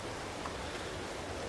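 Steady rain falls across a farm in Farming Simulator 22, an even hiss of pattering drops that stays constant throughout, with no voices and no other sounds.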